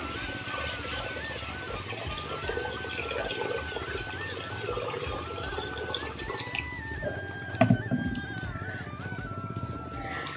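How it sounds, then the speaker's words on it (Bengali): Water poured into a hot wok in a home kitchen, a steady running, splashing wash of liquid that fills the clip, ending in a brief sharp clatter near the end. "এখন আমি জল দিয়ে দিচ্ছি।"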